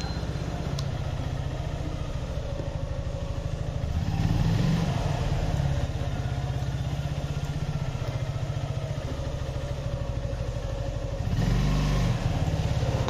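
A motorbike's engine idles steadily and close in an empty office parking lot, with two brief swells of revving partway through and near the end.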